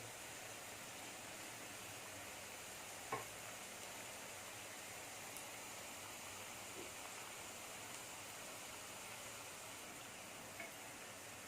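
Onion pakoda deep-frying in hot oil gives a faint, even sizzling hiss that stays steady throughout, with only a couple of tiny pops and no talking.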